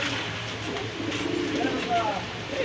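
Gorolal pigeons coo softly and steadily in the background at a pigeon fair beneath a constant noisy hum, with someone talking over them.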